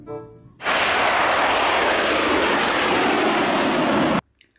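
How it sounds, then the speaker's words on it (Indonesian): A toy fighter jet plays a loud electronic jet roar that switches on abruptly, holds as a steady hiss-like blast for several seconds, then cuts off sharply. "Wow, ada pesawat tempur teman-teman."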